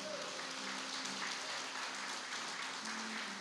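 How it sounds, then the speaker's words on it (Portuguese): Church congregation applauding during a communion service, a dense, steady wash of clapping from many hands, fairly distant and roomy, continuing evenly for the whole stretch. "Quem está aqui pode aplaudir o nome do Senhor Jesus."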